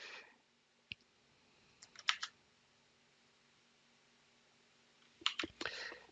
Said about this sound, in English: we'll type in template.